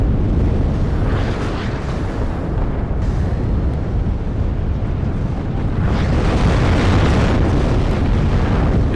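Constant gunfire and explosions from the WARNO battlefield form a dense, loud roar of overlapping booms and crackling bursts, with no quiet gaps.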